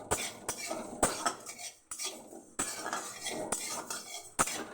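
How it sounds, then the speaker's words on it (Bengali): Gobindobhog rice dry-roasting in a pan without oil, stirred with a metal utensil that gives sharp scrapes and clinks against the pan at an irregular pace, fairly quiet and without speech. "শুকনো খোলায় ভেজে নিচ্ছি।"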